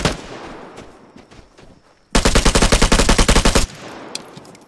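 In the video game Vigor, a rapid burst of loud, close gunfire runs for about a second and a half, framed by quieter ambient game noise and scattered distant shots before and after.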